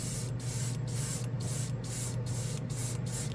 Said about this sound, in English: I'm just shooting air. Just flash drying it off.